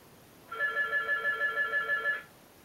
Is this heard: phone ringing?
yes